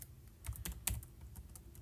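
Computer keyboard typing, a short quiet burst of a handful of key clicks unevenly spaced over about two seconds, close by, with no speech.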